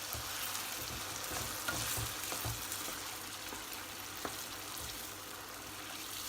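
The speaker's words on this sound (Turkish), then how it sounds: "Kaynatmış olduğum suyumu ilave ediyorum hemen." Boiled water hits rice toasting in butter with vermicelli for pilaf, giving a dense, steady hiss and sizzle that fills the clip at an even level, with faint stirring underneath and no talking.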